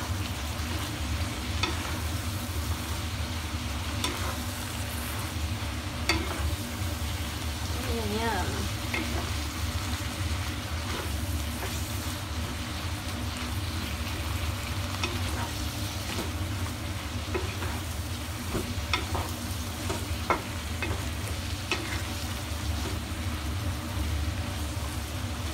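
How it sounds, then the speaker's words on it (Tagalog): Mushrooms are stirred and fried in a pan for Hayashi rice, with a steady close sizzle and occasional scraping, clattering stirs throughout. "Mushroom natin. Ayan, dami diba? Okay, haluin lang natin."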